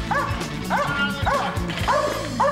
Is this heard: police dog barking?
yes